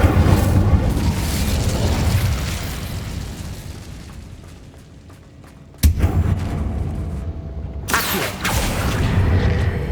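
An Incendio fire spell cast in Hogwarts Legacy bursts with a sharp, loud whoosh-like blast after a rumbling lull, followed by a second fiery burst and a roaring, crackling tail that fills the background.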